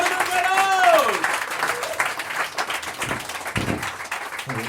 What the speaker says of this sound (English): build a nice round of applause. Put it up.